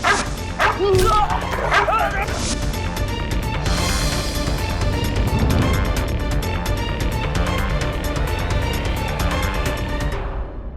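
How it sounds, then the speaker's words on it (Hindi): A dog barks, yips and whimpers in a Hindi courtroom drama scene, loud and close, with excited calls early on and a dense background of music and voices throughout. "एक कुत्ता।"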